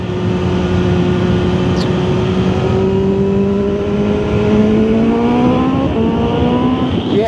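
An inline four motorcycle engine pulls hard on the throttle, its loud, close tone climbing steadily in pitch with a brief shift partway through and the climb resuming.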